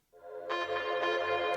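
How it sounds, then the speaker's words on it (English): Sustained synth pad loop in a liquid drum and bass track, made in FL Studio with Serum, swelling in at once and brightening as a fuller layer enters midway, held steady and loud with no talk. "And next another pad loop which sounds like this."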